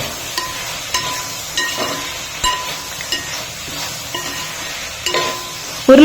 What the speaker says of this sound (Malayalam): കിഴങ്ങ് വെളിച്ചെണ്ണയിലൊക്കെ കിടന്ന് ഒന്നിങ്ങനെ വറുത്തെടുക്കണം